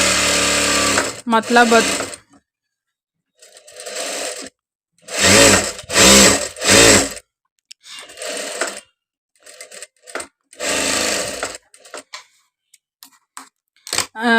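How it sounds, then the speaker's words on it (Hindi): A Juki sewing machine runs straight stitching in several short, loud whirring bursts close by, separated by gaps where a person talks. "देख लीजिए मशीन की स्पीड कितनी है और इसकी स्टिचिंग कितनी है।"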